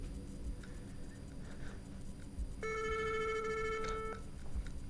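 A telephone rings inside an abandoned hospital, a single electronic ringing burst of about a second and a half over a low background rumble, with no talking during it.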